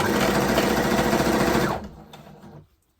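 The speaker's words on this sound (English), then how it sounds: "I'm using the edge of the foot at this side against the edge of the material just to keep that seam allowance consistent." Sewing machine running steadily as it stitches a fabric seam on a scrappy Christmas tree ornament, a loud continuous whirring hum that slows and stops near the end.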